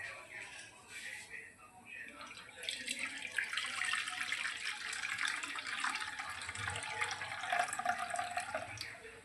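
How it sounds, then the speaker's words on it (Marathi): Crabs are rubbed by hand in a vessel of water to wash them, producing soft splashing and sloshing that grows busier after the first few seconds and keeps going at moderate volume. "यामध्ये पाणी ॲड करून याला छान असं चोळून यातलं पाणी आणि यातलं हे कचरा असा वेगळा करूया"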